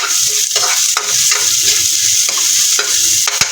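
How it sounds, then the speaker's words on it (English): Bell pepper and raw ingredients sauté in a hot pan, a steady bright sizzle running throughout with periodic scraping stirs of a utensil against the pan, close and loud, no talking. "So let me saute this."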